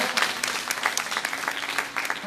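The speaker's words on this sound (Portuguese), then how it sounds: "Aplauda a Ele." A church congregation claps in praise at a Portuguese-language worship service, a dense, steady patter of many hands filling the room for about two seconds, with faint voices mixed underneath.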